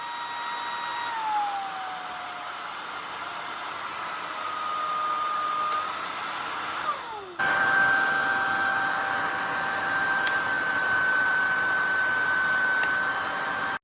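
Shark Powerfins cordless stick vacuum, IZ300UK or IZ320UKT, running steadily with a high whine that shifts pitch as power modes change, close and continuous, no talk.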